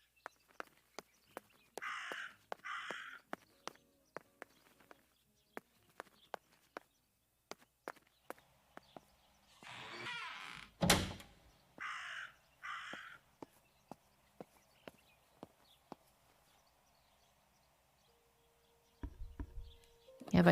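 Crow-like cawing in the video game Martha Is Dead, several short paired calls repeating at intervals amid in-game footsteps and clicks, moderately loud with a burst of louder noise midway.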